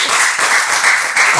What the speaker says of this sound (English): a round of applause for one of them, please.